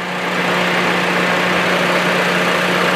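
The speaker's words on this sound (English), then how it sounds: "the engine fan's coming on, but the air conditioning compressor fan is not kicking on" Engine cooling fan running on a 2007 Honda Civic, a steady loud whirring hum with a constant low drone, continuous and close with no talking.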